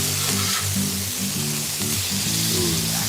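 Burgers sizzle in a pan on the stove, a steady bright hiss of frying fat with soft popping and a faint background hum.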